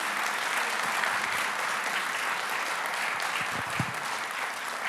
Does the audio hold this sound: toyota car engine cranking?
no